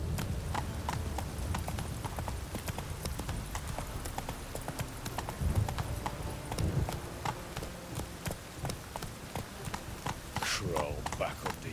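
Roach, the horse in The Witcher 3 video game, trots with steady, distinct hoof clops throughout, and a brief whinny comes near the end while people talk over it.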